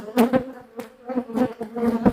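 Honeybees buzzing around an open hive during a colony inspection, a dense close drone with pulsing swells as bees fly near.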